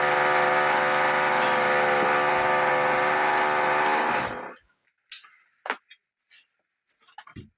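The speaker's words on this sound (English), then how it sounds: "They're using some big pneumatic drill." A big pneumatic drill at the building works next door, hammering loud and continuous for about four seconds before stopping abruptly, followed by scattered faint knocks and clatters.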